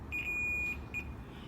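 A multimeter gives a continuity test beep while probing the connector of a gate motor that turns only one way: a long steady tone, then a short second beep, clear and near.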